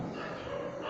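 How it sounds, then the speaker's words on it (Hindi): Dogs bark outdoors at midnight, a faint, distant yapping that comes through a steady background hiss, short and somewhat muffled, with no one speaking over it. "रात के बज रहे हैं 12 और कुत्ते ज़्यादा भौंक रहे हैं"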